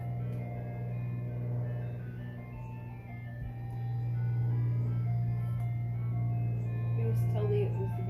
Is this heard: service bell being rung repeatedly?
no